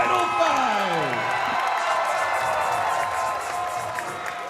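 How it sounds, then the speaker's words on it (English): Crowd applause and cheering follow a lightweight championship title fight, a steady wash of clapping and whoops at moderate level over a ringing tone that glides down at the start. "one more round of applause for a great title fight"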